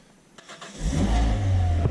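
A Renault Alpine GTA V6 starts with a few cranking clicks, then its engine catches and settles into a loud, deep rev close by.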